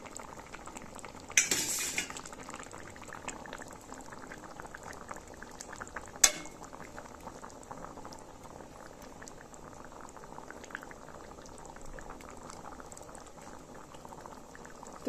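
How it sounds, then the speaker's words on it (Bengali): Fish curry broth with taro and eggplant boils steadily in a pot with a continuous soft bubbling, a brief utensil clatter early on and a single sharp metallic clink midway, with no talking. "মাছগুলো দেওয়া শুরু করেছি যেহেতু ঝোলটা ফুটতে আরম্ভ করেছে"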